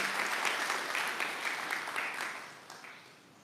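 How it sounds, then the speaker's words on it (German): A church audience claps for preacher Albert Friessen, a dense burst of applause that starts strong and slowly tapers off, moderately quiet and without voices. "Geef mij een applaus voor Albert"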